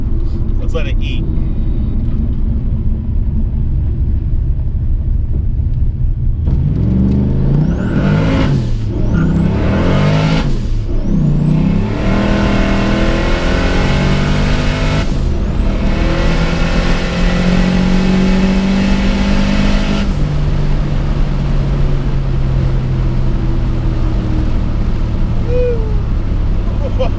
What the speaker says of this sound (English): hearing the constant spooling of the turbo and then the blow-off valve